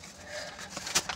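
Pigeons in a loft, heard as one brief soft coo near the end of a short, quiet moment with faint room noise.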